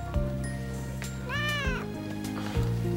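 A cat lets out a single drawn-out, rising-and-falling meow near the middle, clear and close, over a steady low droning background.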